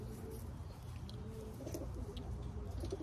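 Racing pigeon, a blue check with white flights, cooing softly in steady low murmurs at close range, with continuous background hum and no talk.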